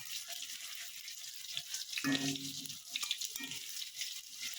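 Soft sizzling of potatoes frying in oil, with a brief clatter and stirring midway, close but quiet, no voices.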